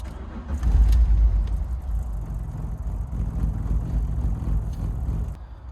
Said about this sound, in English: And then turn the car on.